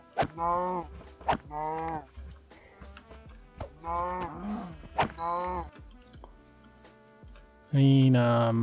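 Cows in Minecraft lowing in several separate drawn-out moos, close and fairly loud, with a final louder moo at the end.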